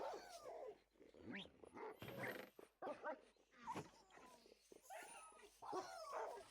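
A dog in a video game gives a string of close yips, whimpers and short barks in an uneven rhythm, with game sounds mixed in and a little voice underneath.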